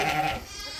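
A lamb at a sheep pen in Rușor village lets out one brief, wavering bleat, close and moderately loud. It fades quickly into background noise.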